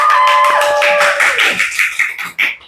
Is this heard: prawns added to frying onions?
no